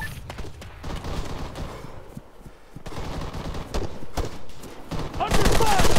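Gunfire in the Arma 3 multiplayer video game, bursts of rapid shots crackling through a busy battle mix, with a voice calling out in between.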